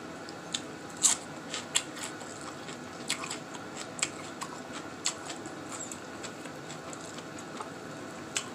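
Crisp, crunchy bites into blanched sabai nang sea grapes, a run of sharp clicks spaced about once a second, close and fairly quiet with no talking.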